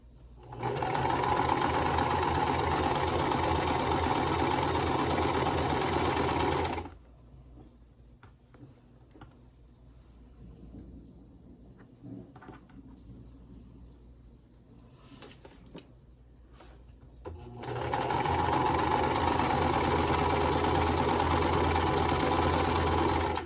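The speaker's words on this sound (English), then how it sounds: "we're just going to be sewing right down the middle," A sewing machine stitching a quilt block corner to corner runs in a steady loud whir for several seconds, stops for a long quiet stretch with faint handling noises, then starts up again and runs steadily to the end.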